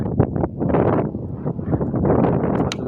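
Strong wind roars across a microphone outdoors near water, a loud continuous rumbling buffet with gusty surges and no voices.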